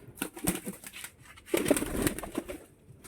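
White native pigeons coo in soft, low murmurs, with a louder burst of cooing and a little wing movement in the middle, close by.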